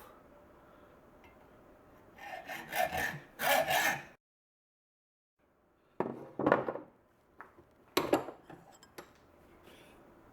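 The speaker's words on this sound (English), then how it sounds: "I have a plain old hacksaw, and we're going to cut it off." A plain hacksaw cuts through a steel file clamped in a vise, with loud rasping strokes in short bursts, a pause of silence, then further rhythmic strokes close by.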